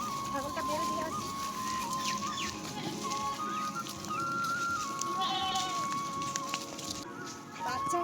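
Goats on a rural village farm bleat intermittently in the distance, mixed with chickens clucking and faint background voices.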